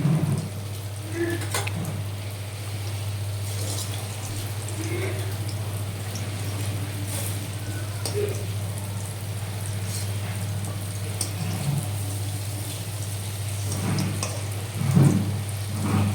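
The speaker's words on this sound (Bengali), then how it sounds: "বন্ধুরা দেখো, আমার বড়াগুলো এই বড়াগুলো প্রায় ভাজা হয়ে এসেছে।" Lentil fritters (bora) deep-fry in hot oil for a moong dal tadka dish, giving a steady, even crackling sizzle with a low hum underneath throughout.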